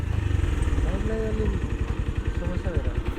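A motorcycle engine runs steadily on a cold mountain road in East Rukum, Nepal, a continuous mid-low rumble heard close by, with people talking over it throughout.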